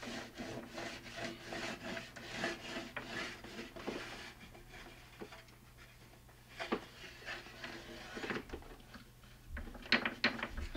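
Wax is rubbed onto a wooden winter camping sled in quick, close, scratchy strokes, which slow to scattered scrapes and then pick up again, no talk.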